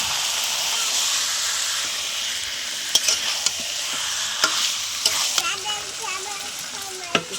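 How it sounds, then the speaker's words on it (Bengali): Chicken tipped into frying masala and potatoes for chicken kosha gives a loud, steady, hissing sizzle close up, broken by a series of sharp spatula scrapes and clinks against the pan. "চিকেনটা দিয়ে দিচ্ছি।"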